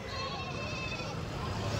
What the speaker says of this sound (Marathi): इथं तुम्हाला जास्त करून मित्रांनो गावरान जातीचे शेळ्या वगैरे इथं पाहायला भेटतील